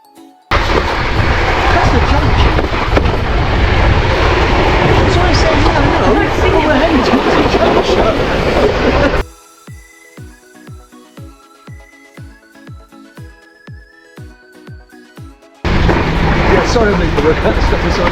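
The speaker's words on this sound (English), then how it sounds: "So we've just come down from Monte Palace in the wicker toboggans." Wicker toboggans slide down a steep street in Madeira from Monte, giving a loud, continuous rough scraping rumble with voices mixed in, broken midway by a short musical interlude before the rumble returns.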